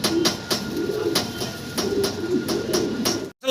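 A pair of Spangle German Modena pigeons coo close by, with soft, throaty, repeated rolling calls in a rhythmic pattern and a faint background hum.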